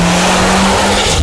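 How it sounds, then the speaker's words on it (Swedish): A Mitsubishi Evo X engine revs hard and loud at close range, a dense, aggressive roar with a steady droning tone held across the short burst. "Motorn låter ju hårdare än Subaru."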